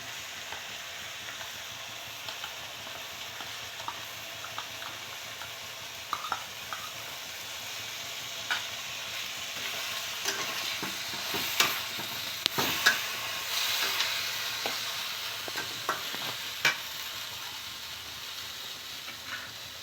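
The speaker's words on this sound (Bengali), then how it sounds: "আগে থেকেই বেটে রাখা সর্ষে এবং আদা এটা আমি দিয়ে দিচ্ছি" Ground mustard and ginger paste frying in a pan for ash gourd sukto gives a steady hiss with scattered clicks and scrapes that grow busier midway, close and moderately loud, with no voices.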